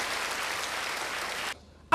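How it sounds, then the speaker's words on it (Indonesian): Audience applause in a church service, a dense steady wash of clapping that fills the hall for about a second and a half, then cuts off abruptly to near silence. "Beri tepuk tangan sekali lagi bagi dia."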